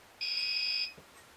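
An alarm device gives a single steady, high-pitched electronic beep of about two-thirds of a second during a paranormal investigation, with quiet room noise before and after.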